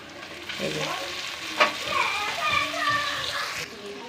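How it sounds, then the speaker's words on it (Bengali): Chopped tomato and chillies fry in a pan with a steady moderate sizzle and stirring scrapes, while voices, including a child's, talk over the cooking. "এই যে টমেটো কুচিটা দিয়ে নিয়েছি, টমেটোটা হালকা করে একটু ভেজে নেব।"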